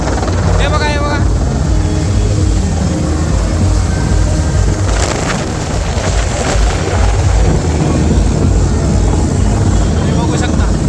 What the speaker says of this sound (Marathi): हेलिकॉप्टर बघू शकता तुम्ही, हे फक्त पुष्पवृष्टी करण्यासाठी आलेले आहे